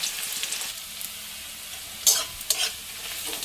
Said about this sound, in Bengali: আমার পেঁয়াজগুলো ভাজা হয়ে গেছে